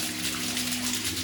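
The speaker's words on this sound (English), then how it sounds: "It's got a beautiful little trickle coming down." A small waterfall trickles into a clear pool inside a cave in Black Star Canyon, California, producing a steady, close, hissing splash of falling water with a faint low hum beneath.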